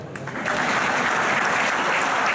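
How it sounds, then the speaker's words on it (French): A crowd at a radio singing contest in the Cévennes breaks into applause; the clapping swells within a moment into a dense, steady wash that holds at moderate loudness to the end. "Applaudissements."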